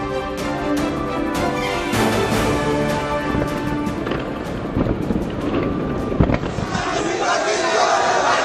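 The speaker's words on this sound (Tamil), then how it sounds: "தேசிய கொடியுடன் நடனமாடியும் பட்டாசுகளை வெடித்தும் ரசிகர்கள் உற்சாகம்." Cricket fans celebrating India's Asia Cup win set off firecrackers in a crowded street, with sharp bangs and pops over a continuous roar of cheering crowd.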